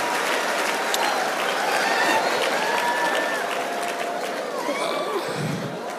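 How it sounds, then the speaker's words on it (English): Conference audience clapping steadily at a speaker event, loud and sustained throughout with faint crowd murmur mixed in. "So I want to clap for my mama"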